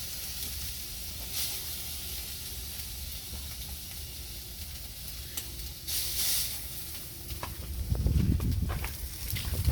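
Ribeye steaks sizzle over a Big Green Egg as a soft continuous hiss and crackle, with a brief louder burst and a deeper clunk of handling near the end.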